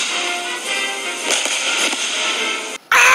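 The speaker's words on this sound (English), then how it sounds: "Shooting our own fireworks." Backyard Fourth of July fireworks fizzing and hissing steadily for nearly three seconds, with faint crackles in the middle and a sharp louder burst at the end.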